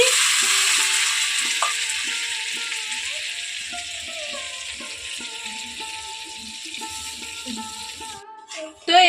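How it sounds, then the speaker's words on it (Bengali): Butter heats slowly in a pan for ghee, giving a soft continuous sizzle and hiss with faint bubbling crackles, fairly close and steady, ending with a brief clatter. "এইভাবে খুব আস্তে আস্তে তাপ দিয়ে কিন্তু ঘিটাকে তৈরি করতে হবে"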